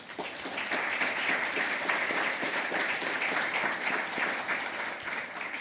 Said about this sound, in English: Raucous applause, Mike.